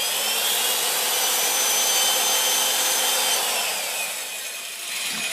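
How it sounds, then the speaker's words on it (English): A Ridgid 700 power drive turns pipe in a Ridgid 258 cutter, giving off a steady, loud whirring hum with a rubbing, grinding texture that eases slightly near the end. "once the 700 power drive is in place and it's rotating the pipe"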